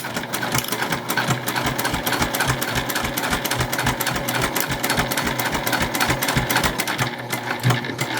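A sewing machine runs steadily while stitching layered fabric for a card lanyard, its fast, even needle clatter loud and close for several seconds without pause.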